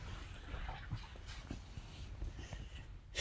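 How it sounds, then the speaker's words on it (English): Dogs in a home during a family holiday visit, with faint, distant yips, whimpers and panting, never a clear bark, low under a quiet room. "my dogs are barking"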